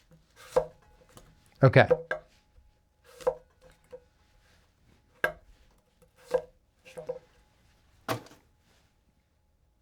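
A Takamura SG2 Migaki gyuto knife slices through food onto a cutting board, about eight crisp, close cuts spaced irregularly with quiet gaps between, and a brief spoken word.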